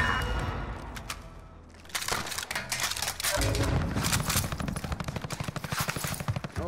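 Call of Duty: Modern Warfare gunfire rattles in sustained automatic bursts, starting sparse and then erupting into loud, rapid, close-range volleys that continue to the end.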